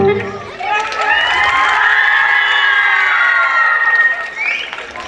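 Concert audience at a town festival celebration in Nikopol, cheering, whooping and shouting loudly and continuously, with many voices including children's, after a sung line fades out at the start.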